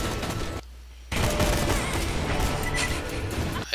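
Rapid pistol gunfire crackles in the video game Borderlands 2, a dense run of shots with a short break before the firing resumes, loud and constant against the game's background noise.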